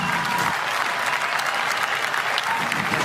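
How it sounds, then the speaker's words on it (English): Motorsport fans applaud from the grandstand after a crash, a steady dense wash of clapping that fills the whole stretch at a loud, even level. "Fans already giving a round of applause"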